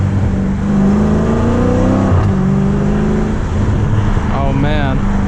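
A Dodge SRT with a Hemi V8 roars hard under acceleration, close and loud, its pitch climbing and then stepping through gear changes, with a brief higher whine near the end.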